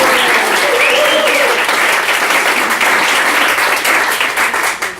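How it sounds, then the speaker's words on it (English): Audience applause for a speaker being introduced on stage, steady and loud throughout, a full room clapping densely before beginning to thin at the very end. "please a big round of applause for Dr. James Robinson."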